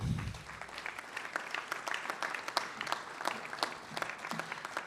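Sustained applause from an audience, dense rapid clapping throughout at steady moderate loudness, with no speech over it.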